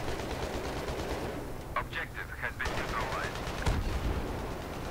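Rapid bursts of automatic gunfire from Battlefield 3 on the Seine Crossing conquest map, a close, steady rattle of repeated shots over a dense combat din, with brief sharper reports near the end.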